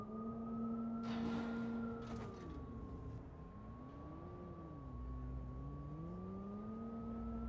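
An electric car in a parking garage in the Watch Dogs 2 video game gives off a sustained, wavering synthetic tone that rises and falls slowly over several seconds, with a low rumble beneath and brief noisy bursts near the start.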